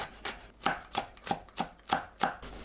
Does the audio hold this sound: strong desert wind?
no